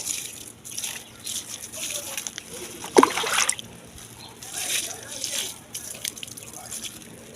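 Water is splashed and poured over a heap of farm waste being wetted for composting, with irregular splattering and dripping and one louder splash, while a person talks nearby.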